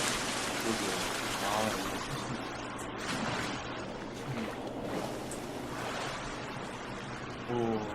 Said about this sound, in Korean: 이 물소리가 너무 커서 말이 잘 안 들려